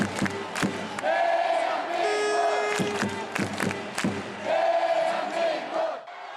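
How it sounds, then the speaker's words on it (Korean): Some 11,000 Red Devils football fans roar and chant together inside Samsung Lions Park stadium in Daegu, a loud, dense crowd swelling in waves with rhythmic shouted bursts and sharp claps throughout. "4년 만의 함성, 대한민국이 구장에 울려 퍼집니다"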